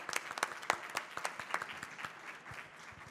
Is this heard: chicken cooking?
no